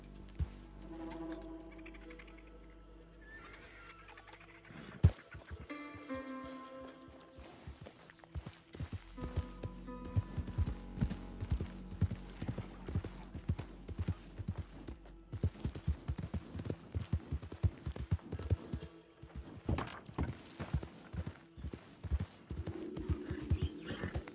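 Horse hooves clip-clop in Red Dead Redemption 2 as the rider travels, first a walking gait and then a quicker, steady rhythm of close thuds, with a sharp knock partway through and faint ambience behind.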